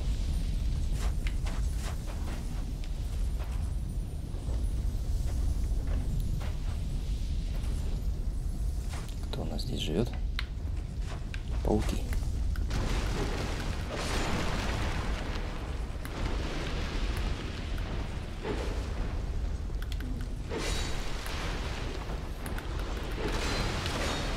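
In Dark Souls 2, an exploding lizard enemy sets off a sustained roar of bursting booms and crackling rumble in a game scene, loud and continuous throughout.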